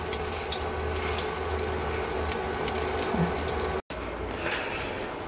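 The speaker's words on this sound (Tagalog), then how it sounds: "So, pwede na ito iprito. Ayan. Mainit na ang ating mantika." Food frying in shallow hot cooking oil, a steady close hiss and sizzle throughout, broken by a brief gap, then a brighter burst of crackle.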